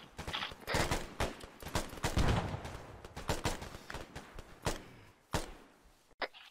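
Gunfire in a military game on foot patrol: rapid, irregular rifle shots and bursts from several weapons, some close and sharp, others quieter, continuing through the whole stretch.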